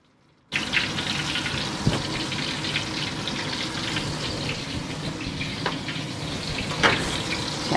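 Banana and apple fritters fry in hot oil, giving a steady close bubbling sizzle that starts abruptly after a brief silence and carries on evenly with a few sharper pops, with no talking over it.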